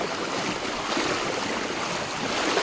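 Strong floodwater of the Brahmani river rushes past in a steady, loud broadband roar, continuous and turbulent like heavy surf, with no voices over it.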